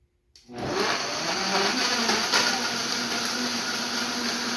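A blender whirs to life after a moment of quiet, then runs loud and steady with a grinding, rattling roar.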